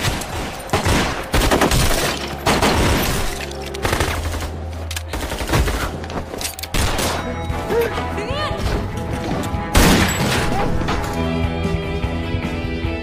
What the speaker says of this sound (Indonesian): Kericuhan dan aksi tembak-menembak pun tak dapat dihindarkan.